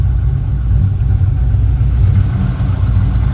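Steady low rumble of a 1995 Impala SS's 383ci V8 with a big cam running hard at wide open throttle, loud and continuous with a deep, even drone and no voices.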